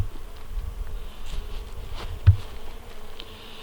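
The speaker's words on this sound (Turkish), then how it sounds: "Şu an bal arıları çiçeklerden polen alıyorlar." Honey bees buzz steadily while gathering pollen from flowers in a village setting, a continuous close hum with a few louder passes and no talking.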